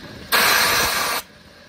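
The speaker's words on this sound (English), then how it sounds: "And then John here testing the blowdown valve." Steam bursts from the blowdown valve of a 3 1/2 inch gauge BR Britannia model locomotive in one loud, close hissing blast lasting just under a second, then cuts off to a quiet background.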